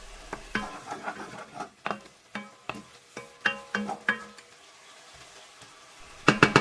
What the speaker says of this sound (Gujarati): પાલકને અંદર નાખ્યા પછી આપણે બધા પાલકને સારી રીતે મિક્સ કરી લેવાનું છે